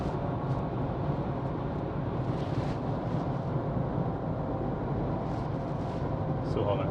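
A car with a 4JJ1 engine and six-speed automatic transmission driving steadily, a constant low engine and road drone filling the cabin throughout, with no change in pitch.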